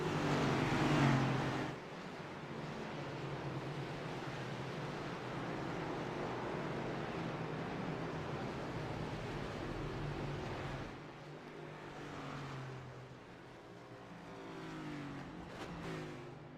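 Race cars on pit road at Daytona Speedway in the iRacing Cup Series game, a steady engine drone with shifting revs and passing vehicles, continuous and moderately loud.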